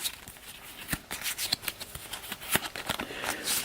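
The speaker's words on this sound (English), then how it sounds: "I'm shuffling Optimus Prime's deck." Cards from the Transformers deck-building game, Optimus Prime's deck, being shuffled by hand: a close run of crisp, irregular riffling and sliding bursts, with no talking.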